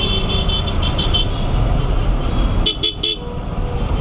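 Heavy traffic jam on a road near an airport, with a steady rumble of engines and road noise. Partway through, a car horn sounds several short, close honks in quick succession.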